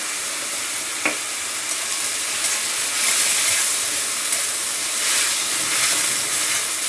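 Vegetables sautéing and being stirred in a hot pan for a Marathi home-style dish, a loud, steady sizzle with occasional soft scrapes of the spoon, close by and without talk.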